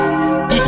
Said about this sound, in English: Peppa, ring the bell.